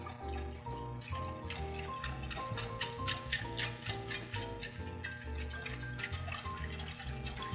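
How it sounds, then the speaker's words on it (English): A whisk beats a salted mixture in a bowl, giving steady rapid ticking clicks throughout, with a continuous layer of background music underneath. "whisking this together"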